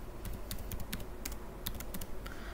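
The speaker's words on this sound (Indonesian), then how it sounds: "kemudian kita ketikkan nama filenya" Rapid clicking of a computer keyboard as a file name is typed at a Linux command line, an irregular run of close, crisp keystrokes with no talk.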